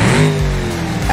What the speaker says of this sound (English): Engine's still good. You can hear it still revving up.